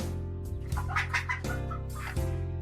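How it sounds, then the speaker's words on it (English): A second chicken cluck effect plays in a Godot game test scene: a few quick clucks layered over looping background music. "And the second chicken sound."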